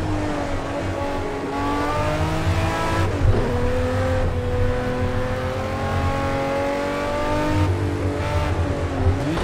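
A race car's engine in a video game drones loud and steady, its pitch sweeping up and down through gear changes, with a brief tire squeal near the middle.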